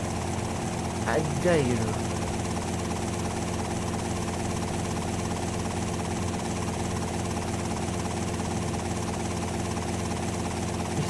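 Steady droning engine noise of an aircraft, helicopter-like, in GTA Vice City Stories, a constant loud hum running throughout while someone speaks briefly near the start.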